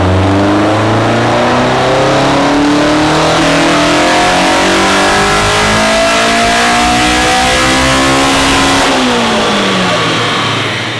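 A K-swapped Toyota AE86 four-cylinder engine revs hard on a dyno, climbing in a long, loud, continuous pull that rises steadily in pitch before it cuts off and falls near the end.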